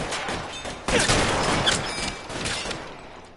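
Gunfire in the game L.A. Noire, a sharp loud shot opening a rolling volley of rapid reports that fade and swell over a few seconds, close by.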